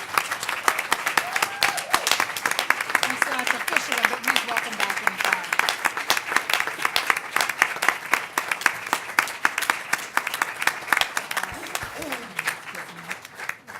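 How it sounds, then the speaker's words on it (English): Applause from the audience at a school board meeting, steady clapping across the whole stretch, fairly loud and close, with someone speaking over it near the start. "I think we owe him a huge round of applause"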